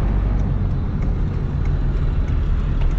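A smoky 12-valve diesel truck lugs low in fourth gear while towing a broken Honda, a steady heavy rumble filling the clip from start to finish with no talking.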